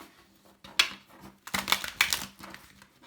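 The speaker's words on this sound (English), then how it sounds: "One more shuffle, please." A deck of cards being shuffled for a card reading: a few quick riffling, papery bursts with short pauses between them, close and fairly quiet, and no talking.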